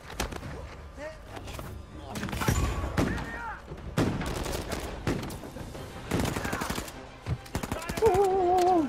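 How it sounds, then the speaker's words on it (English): Shotgun blasts and other gunfire from Uncharted 4 in the New Devon chapter, a string of sharp reports and impacts mixed with in-game voices. "Shotgun, look out."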